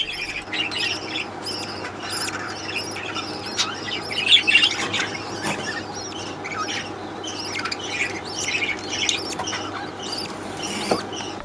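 Rapid, high-pitched chirping and squeaking from parakeet chicks being fed by their mother, repeated in bursts over a low steady hum, with no voices.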